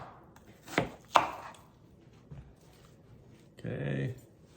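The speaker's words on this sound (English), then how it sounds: "So now I'm going to just slice up this onion into wedges, very thin wedges." A knife cuts an onion into thin wedges on a cutting board, giving two sharp, close chops in quick succession and a fainter third cut, followed by a brief voiced sound in a quiet kitchen.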